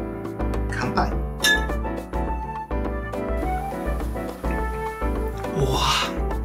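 Glasses of Kokushi Musou umeshu plum liqueur clinking in a toast: a brief bright chink or two, fairly faint under steady background music.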